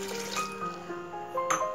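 Water pours from a tumbler into a mixing jar holding yogurt, cucumber and mint leaves for cucumber buttermilk, a steady close pour with faint ringing tones and no talk.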